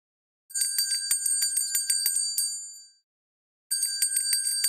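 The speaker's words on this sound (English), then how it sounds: "So the answer was the sound of a bell." A bell rings as the answer to a guessing game: a run of bright, rapidly repeated metallic dings, a pause of about a second, then another burst of ringing, clear and alone with no talk.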